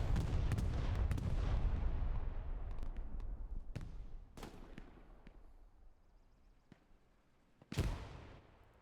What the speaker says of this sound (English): Bombing run's going in.